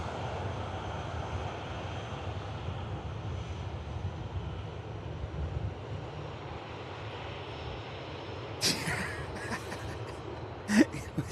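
A KLM airliner lining up on a Manchester Airport runway makes a low, steady engine rumble at a distance, fairly quiet, with a couple of brief sharp noises near the end.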